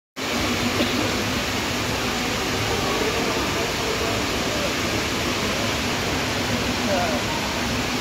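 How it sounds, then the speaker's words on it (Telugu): Indoor waterfall inside Dubai Mall, a loud, continuous broadband rush of falling water filling the space evenly from start to finish, with no break or change in intensity. "వాటర్ ఫాల్ చూడండి ఏ విధంగా ఫాల్ అవుతున్నాయి వాటర్"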